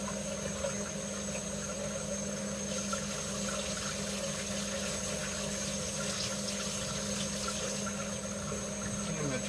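Tap water runs from a sink through an attached garden hose during a home beer brew, a faint, steady flowing hum with a low pump-like drone throughout.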